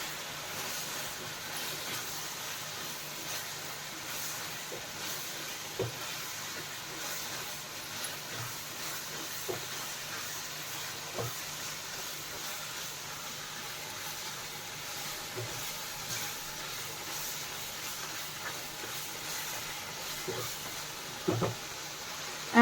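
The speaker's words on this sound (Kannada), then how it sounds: "ಫ್ರೈ ಮಾಡ್ಕೊಳ್ಳಿ." Chicken fries with ginger, garlic and chilli paste in a steady, quiet hiss that runs throughout, with occasional faint clicks and pops and no clear talking.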